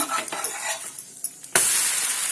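Dosa crisping in oil on a hot pan gives a soft sizzle with a few scraping and stirring touches, then a sudden loud, steady hiss of frying takes over and holds to the end.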